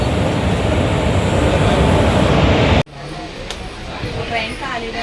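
Steady rumble and rattle of a moving passenger train, heard from inside a carriage, loud and continuous at first. It then suddenly drops to a quieter cabin hum with faint clicks.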